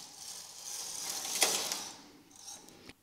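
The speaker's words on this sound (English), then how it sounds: "I'll be knitting the last row from left to right" A knitting machine carriage pushed across the needle bed to knit the last row from left to right for a scalloped hem, a close whooshing mechanical rasp that swells and fades, ending with a sharp click, no talk.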